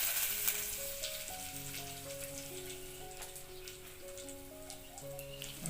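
Mustard seeds and cumin crackle and sizzle in hot oil as a tempering for a Gujarati shing bhujiya shaak, a soft steady spatter running under gentle background music.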